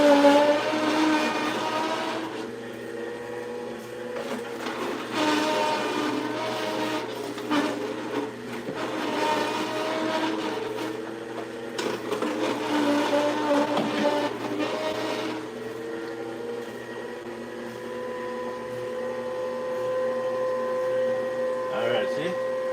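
Electric juicer whirring loudly as it juices beets, a steady mechanical motor drone with surging grinding passages, close to the microphone throughout.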